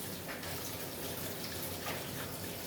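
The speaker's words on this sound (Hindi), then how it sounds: "कान्हा जी का पानी ताज़ा ताज़ा भर रही हूँ" Tap water runs steadily into a vessel, filling it with fresh water for a deity's bath in a home, a continuous broadband gush close by with no talk.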